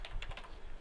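Keys on a computer keyboard are tapped in a quick run of light, soft clicks, close by and faint, with no voices.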